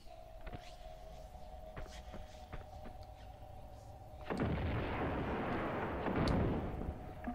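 A grenade blast in the video game Tomb Raider 2: a steady tonal hum with faint clicks, then a loud, sustained rumbling explosion that erupts and roars for a couple of seconds.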